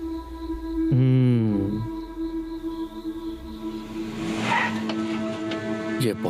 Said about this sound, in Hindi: ये बहुत रैश गाड़ी चलाता है।